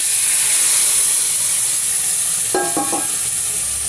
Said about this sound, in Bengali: জিরে আর কাঁচা লঙ্কা ফোড়ন দিয়েছি।